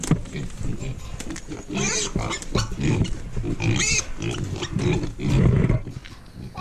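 A few farm-reared pigs grunt and squeal in a pen, loud and close, with repeated snorts and rough calls overlapping people talking nearby.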